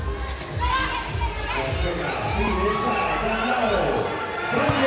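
A crowd at a FIBA 3x3 Asia Cup basketball game cheers and shouts, a lively, moderately distant roar that builds, with voices mixed in.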